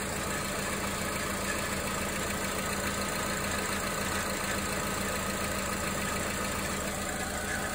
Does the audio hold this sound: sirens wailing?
no